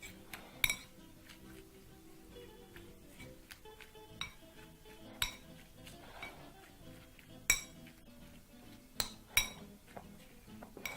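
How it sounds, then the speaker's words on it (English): A spoon tosses lettuce leaves and filling together in a bowl for a chapati roll with beef, with sharp metallic clinks against the bowl at irregular intervals over faint rustling, close and fairly quiet. "use your spoon to toss everything together in your bowl"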